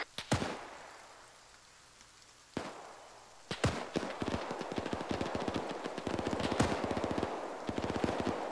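Gunfire in a WW2 video game skirmish set at Baranow, Poland, 1944: a few sharp isolated shots, then dense rapid machine-gun bursts, distant-sounding and moderately loud.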